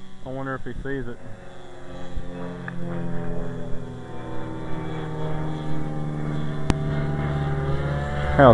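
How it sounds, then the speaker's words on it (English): A Great Planes giant Super Sportster radio-controlled model plane drones steadily overhead in high winds at a Dallas, Texas flying field, a continuous moderate engine hum with people talking briefly at the start. "There's a plane right there."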